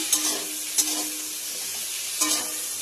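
Raw and ripe tomatoes stirred into a hot frying pan for a Bengali shol fish curry with drumsticks, giving a steady close sizzle with a few soft scraping stirs.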